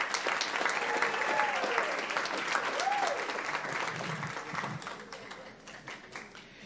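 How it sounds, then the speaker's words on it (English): An audience at a school board meeting claps for a school counselor, a full round of applause that starts strong and gradually thins and fades, with a few faint voices and cheers mixed in. "Let's give her a round of applause."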